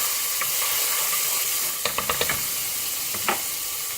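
Garlic frying in a hot pan gives a steady close hiss, with a few sharp crackles and pops breaking through near the end.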